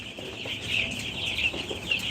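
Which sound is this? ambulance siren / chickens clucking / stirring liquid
chickens clucking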